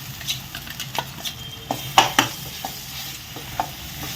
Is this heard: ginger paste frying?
yes